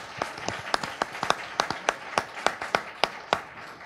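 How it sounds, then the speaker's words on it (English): A small audience at a public health book launch gives sparse, unhurried applause, about a dozen distinct hand claps spread evenly and fairly quiet in a room with no one speaking over them. "a round of applause for the great questions from the audience"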